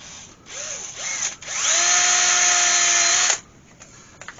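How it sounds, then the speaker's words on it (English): A power drill bores a hole into a turned yew wood seal's head, a couple of short spin-ups followed by a steady high whine lasting about two seconds, then stopping abruptly with faint handling noises after. "Just drill a hole in there."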